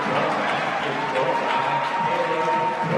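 Home crowd at a SUNY Oswego versus SUNY New Paltz men's college basketball game cheering and applauding after a three-pointer, a dense sustained roar throughout, with commentary faintly underneath.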